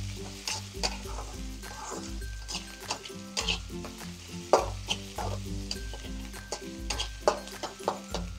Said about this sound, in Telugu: దీన్ని ఇంకా కొంచెం వేయించుకుందాం.